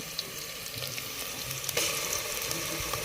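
Onion paste fries in a pan for fish curry, a continuous crackling sizzle with occasional sharper pops and a stirring scrape partway through.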